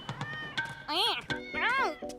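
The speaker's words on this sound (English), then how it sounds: "Izzy, put down the cat" A cartoon cat gives two drawn-out meows, rising then falling, between short spoken lines and background music.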